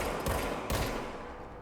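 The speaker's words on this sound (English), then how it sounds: "this guy's also shooting" Rapid bursts of enemy gunfire in a video game rattle out close and loud in two clustered volleys, then trail off into a fading roar.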